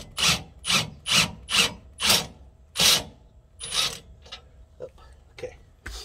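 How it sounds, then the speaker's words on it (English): A bolt and nut are tightened to draw in a home-built leaf spring pack on a 1988 Toyota Hilux pickup, giving a run of about six evenly spaced, close rasping strokes that then thin out into a few quieter, scattered scrapes. "we're gonna draw this thing in by tightening this bolt or this nut right here"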